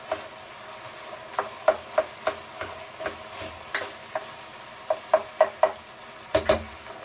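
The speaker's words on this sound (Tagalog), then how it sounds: "igigisa-gisa lang natin ito hanggang sa maluto yung" Ground pork sautéed in a pan, with a steady sizzle and a rhythmic series of close utensil taps and scrapes as it is stirred, loud and without talk.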